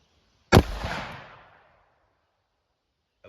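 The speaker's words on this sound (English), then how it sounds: "I'm going to try to shoot that steel back there." A single sharp gunshot from a Hornady 165 grain .357 Magnum round fired through a 3-inch barrel at a steel target outdoors, one loud close crack with a short decaying tail and no voices.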